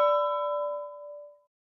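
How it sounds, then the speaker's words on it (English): A single clear ring of the Big Ben clock bell in London, a bright sustained tone that decays smoothly over about a second and a half with no other sound around it. "Big Ben is ringing,"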